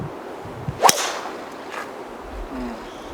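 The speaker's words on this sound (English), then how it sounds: "his club just has a great sound when he hits that driver" A golf driver striking a ball off the tee at a PGA Tour event, a single sharp crack with a quick whoosh after it, alone with faint crowd ambience.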